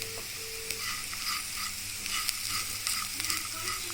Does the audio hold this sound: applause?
no